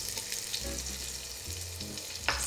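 Chopped scallions fry in a skillet beside chicken, making a soft, steady sizzle with a few low bumps and scrapes from stirring, and no one speaks.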